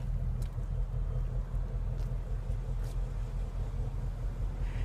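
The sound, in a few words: Ford Mustang GT V8 exhaust rumble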